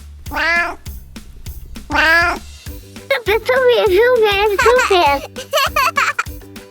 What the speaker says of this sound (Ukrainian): мій улюблений котик